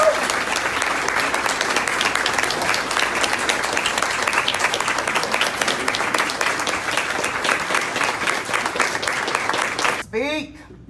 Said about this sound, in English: I want you to welcome, with a round of applause, Mr. Jitu Brown.